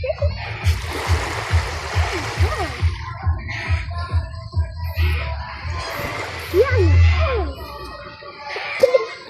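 Sea water splashes and sloshes repeatedly at the shore nearby, with a low rumbling undertone and occasional bursts of voices in the background.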